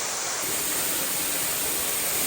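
Rushing water of a rainforest waterfall in Australia, a steady broadband roar that fills the whole short stretch without pause, with no voices over it.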